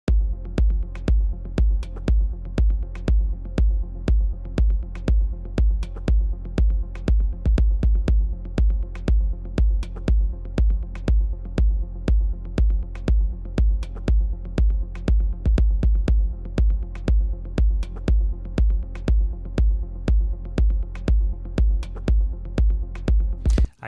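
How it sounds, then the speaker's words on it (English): Techno percussion lightly distorted with a pedal, a loud, steady, driving loop of punchy low hits with gritty clicks on top, repeating without a break. "I'm thinking even using a slight pedal to distort it."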